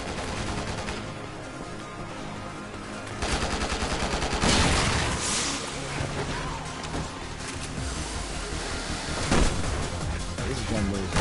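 Rapid bursts of video game gunfire crackle over a dense, loud soundtrack of effects and music, with sharper shots standing out in the middle and near the end.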